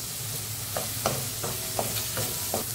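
Curry leaves and onions frying in oil, a soft steady sizzle with several light stirring taps spaced about every half second, quiet and close.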